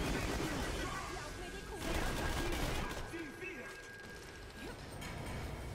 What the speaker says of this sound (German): Und nochmal anschießen.